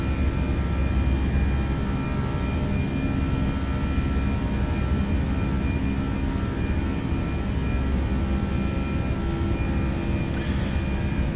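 Toliss A319 airliner in the X-Plane 12 simulator, engines held at climb thrust, giving a loud, constant broadband roar with a steady low hum, unbroken and without speech.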